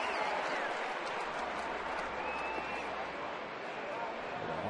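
A crowd at a night baseball game keeps up a dense, continuous roar of applause and cheering that fills the whole stretch at an even level, with voices mixed into it.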